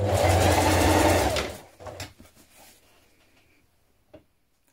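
A sewing machine runs a line of topstitching on jeans in one quick, loud burst, then winds down into a few soft clicks and taps.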